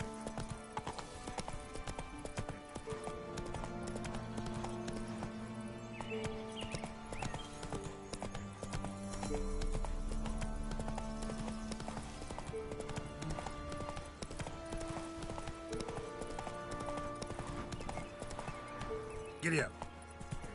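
Horse hooves clip-clop steadily through most of the stretch, mixed with music and voices, with a brief sharper burst near the end.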